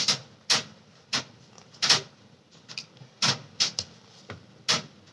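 Tarot cards are drawn from a deck in a series of close, sharp flicks and slaps, about nine crisp bursts spaced irregularly over a quiet background.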